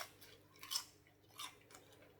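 Faint, close crunching bites into crispy roast chicken skin, three or four brittle crackles spaced across a quiet moment.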